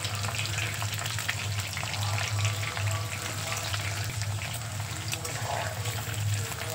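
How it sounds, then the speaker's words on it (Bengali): Taro chips deep-frying in hot oil over a high gas flame give a steady, close, dense sizzle with crackling bubbles and a low burner hum, unbroken and alone without any talk. "এবার চিপসগুলো ভেজে নেব।"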